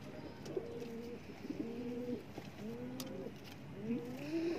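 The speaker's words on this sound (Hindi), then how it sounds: "ये कबूतर है जी" Soft, throaty cooing from a male highflyer pigeon, repeated four times in a steady rhythm, close by over quiet background noise.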